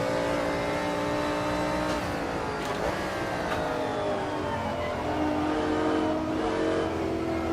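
1960s race car engine in a sim racing game at the Kyalami circuit, a loud continuous harmonic drone that shifts pitch steadily as revs rise and fall, with a few sharp gear-change blips.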